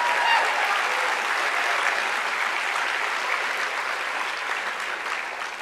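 A university lecture crowd at UC Santa Barbara gives the event sponsors a loud, sustained round of applause, many hands clapping in an even roar that eases slightly toward the end.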